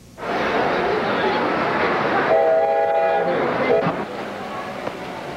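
O-scale model trains run around display tracks at a mall exhibit, giving a steady rumbling roll with a sustained horn-like whistle tone in the middle, loud and continuous against a busy indoor background.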